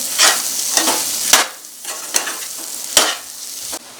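A spoon stirs coriander powder into soya chunk biryani masala in a pan, making loud repeated scraping strokes about every half second to second over a frying sizzle, no talking.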